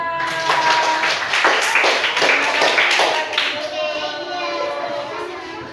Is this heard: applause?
yes